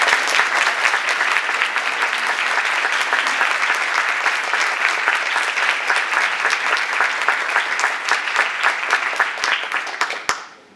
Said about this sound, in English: let's give Laurie a big round of applause.